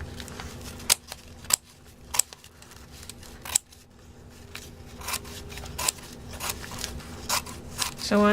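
Sharp snipping clicks of scissors cutting, several spaced cuts at irregular intervals over a quiet background hum.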